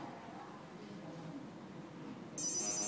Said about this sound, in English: So you see the phone is ringing.